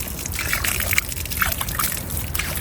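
Water is sprinkled lightly by hand over leafy greens grown at home, giving a close, soft patter and trickle with scattered splashes and no talking.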